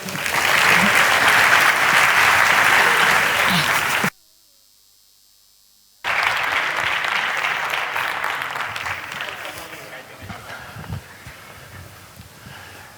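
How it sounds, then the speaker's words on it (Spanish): Loud sustained clapping from an audience at a cybersecurity competition event, dropping to silence for a couple of seconds, then resuming and slowly thinning out. "fuerte el aplauso para ellos"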